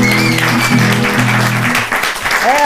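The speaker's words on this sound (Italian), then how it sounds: "Un applauso a voi." Audience at a live show applauding, loud close clapping over sustained musical tones and voices, a short burst that thins out briefly near the end.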